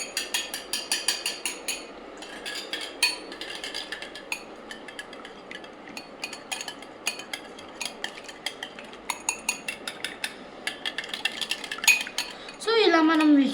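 A spoon clinks and scrapes in a bowl while spices for French toast are mixed in, making a long run of quick, rhythmic metallic taps up close. It closes with a short, sharp, squeaky sweep.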